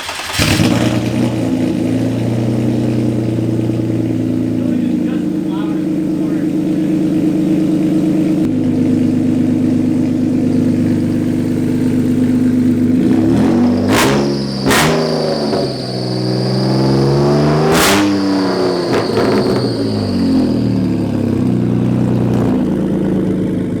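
A car engine with slant-cut exhaust pipes idles loudly and steadily, then is revved hard several times in the second half, each rev sweeping sharply up and falling back, close and raw.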